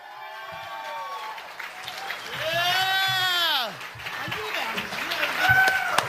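A comedy club audience applauds and cheers for a comedian, with a burst of clapping swelling midway beneath a man's loud, drawn-out shouting and talking.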